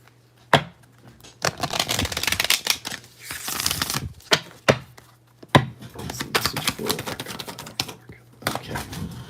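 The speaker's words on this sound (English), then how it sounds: "I'm going to pull a Work Your Light Oracle card for you." Oracle cards from a Work Your Light deck being shuffled and pulled, a run of close, sharp riffling bursts and taps in irregular clusters separated by short pauses.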